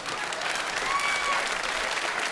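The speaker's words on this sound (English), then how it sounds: "Round of applause." A comedy club audience breaks into steady applause during a stand-up show, a short burst of dense clapping with faint crowd murmur.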